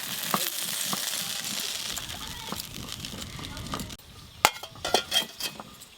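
Food sizzles steadily in a little oil on a village clay stove, a broad hiss that fades after a few seconds into quieter crackle with a few sharp clinks of utensils while a person talks nearby.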